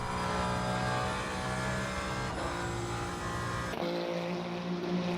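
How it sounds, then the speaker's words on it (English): Race car engine in the Le Mans Ultimate sim racing game, a loud sustained harmonic drone that shifts pitch with gear changes and revs, dropping abruptly near the end before climbing again, with no talking. "Love the noise of this car."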